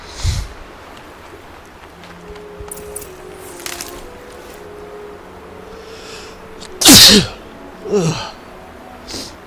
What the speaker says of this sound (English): Don't you hate those like sneezes that give you cold chills?